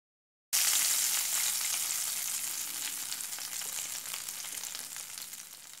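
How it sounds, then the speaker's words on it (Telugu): Hot tempering with curry leaves poured onto a cashew fruit curry sets off a loud, close sizzle that bursts in suddenly, then slowly fades into a steady crackling hiss. "మనం తాలింపుని కర్రీ పైన మనం యాడ్ చేసుకోవాలి"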